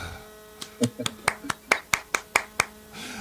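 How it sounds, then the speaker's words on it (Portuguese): Roughly nine sharp, evenly spaced hand claps ring out close by, starting with a few softer, uneven ones, over a low background hum during a chat with a Brazilian artist. "as palmas aqui, queridaço"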